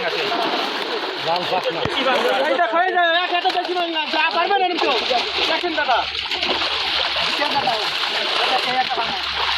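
Splashing water as large catla fish are released at a busy fish market, heavy sloshing and splatter throughout with people talking over it.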